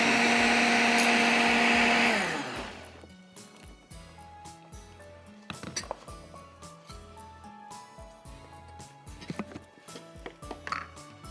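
Kitchen grinder blending chili-heavy marinade ingredients for chatkhara stick boti, a loud steady whir for about two seconds that stops abruptly, followed by quieter clinks and kitchen handling sounds.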